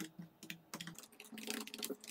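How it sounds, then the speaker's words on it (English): Keys tapped on a computer keyboard while entering a password during a PostgreSQL 13 installation on Windows 10, a quick, irregular run of soft, close-up clicks, faint and with no talking. "I might choose to type in the password for Postgres super user"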